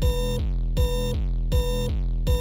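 Friday Night Funkin mod characters imitate an alarm with their voices, a loud buzzing tone that repeats in even pulses about three times, each sharply cut off before the next.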